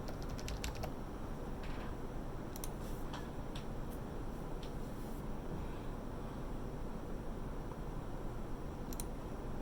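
Soft, irregular key clicks from a computer keyboard, scattered in small bursts over a low, steady background hum, fairly quiet and without voices.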